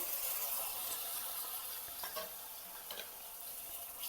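Garlic paste thinned with water hits a hot pan for a spicy vagharelo rotlo, giving a steady, loud hiss with a few faint stirring clicks and no voices.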